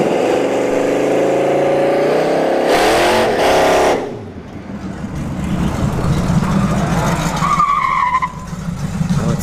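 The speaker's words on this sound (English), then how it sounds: "And a Nissan Skyline R33 coming up here in the left lane." A Nissan Skyline R33 GTS-T, rear-wheel drive, revs hard at a drag strip and launches, a loud rising engine roar that cuts off abruptly midway, followed by lower rumbling and a faint tire chirp.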